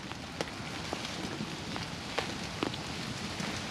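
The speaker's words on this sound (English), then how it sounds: "Still raining down pretty hard." Hard rain falls steadily on soaked woodland, a dense continuous patter with scattered sharper drops striking nearby surfaces, fairly close and unbroken.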